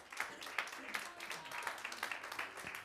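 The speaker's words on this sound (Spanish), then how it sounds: "Dele un fuerte aplauso a Cristo." Church congregation applauding during a Holy Week service, a steady wash of clapping at moderate distance with voices blended underneath.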